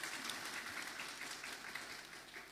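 A church congregation claps at a service in Bandung, a faint, even wash of applause held at a distance for a couple of seconds.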